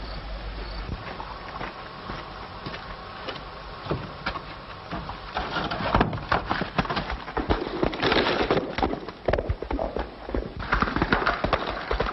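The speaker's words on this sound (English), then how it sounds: "I'm going to ride that horse right now." Horse hooves clip-clop in an uneven rhythm, growing louder and busier midway, with insects chirring faintly in the background.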